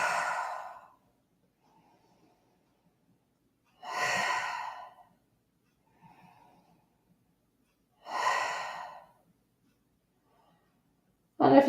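Long, audible exhales during yoga in child's pose, three breathy sighs roughly four seconds apart with quieter inhales between, close and clear in a silent room.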